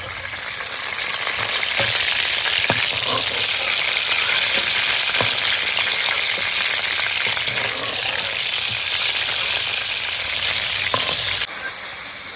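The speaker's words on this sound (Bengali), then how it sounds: "এবার তুলে নিয়ে এইভাবেই সব গলদাগুলো ভেজে নেবে" Steady, close sizzling of golda prawns frying in oil, with scattered sharp pops and crackles throughout and no voices.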